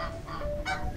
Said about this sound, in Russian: здесь должны присутствовать живые гуси